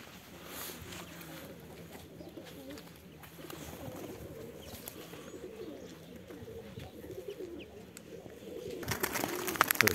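Pigeons coo steadily in a loft while young birds take off together, their wings clattering loudly near the end, with someone speaking intermittently in the background.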